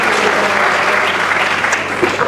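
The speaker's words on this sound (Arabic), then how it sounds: "صفقوا" A crowd at a comedy festival show in Fez claps in a brief, loud burst of applause, a dense wash of hands that holds steady for a couple of seconds.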